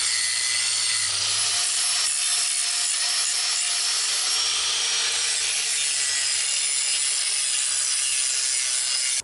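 Metal is cut for a skid steer winch box in a continuous loud, harsh grinding rasp that holds steady for the whole stretch, close by with no talk.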